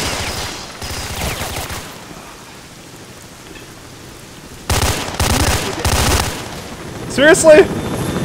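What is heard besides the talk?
military helicopter gunfire in video game STALKER: Shadow of Chernobyl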